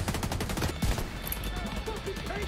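Rapid bursts of shotgun and gunfire in The Division 2 video game, several sharp blasts early then a busy clattering background of combat sounds, with a player talking over it.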